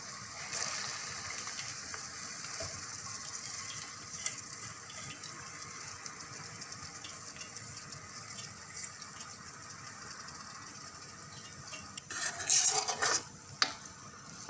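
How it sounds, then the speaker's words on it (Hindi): Boiled lentils being stirred into a masala for dhaba-style dal makhani, a steady wet scraping and gentle sizzle in a pot, with a brief louder clatter of the spoon near the end. "अब दाल को अच्छे से मिक्स कर लेना है मसाले में"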